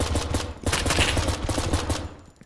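Nine-banger stun grenade detonating in a tactical shooter, a rapid string of sharp cracking bangs in quick succession over about two seconds, loud and close, with no voices.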